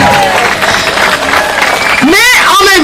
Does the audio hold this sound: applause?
yes